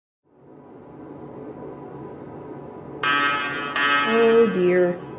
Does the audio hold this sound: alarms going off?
yes